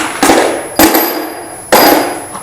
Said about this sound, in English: I'll leave 1 bolt in, see if I can't whack that bolt with a hammer